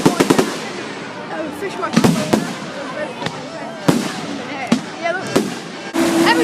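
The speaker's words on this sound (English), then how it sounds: "Fireworks was awesome" Bonfire night fireworks burst in loud, sharp cracks and booms at irregular intervals, with crackling tails between them and excited voices talking nearby.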